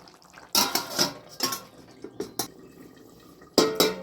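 Metal clatters as a lid goes onto a pot of cauliflower and potato curry, several sharp clanks and rattles in quick succession, close and clear with quiet gaps between.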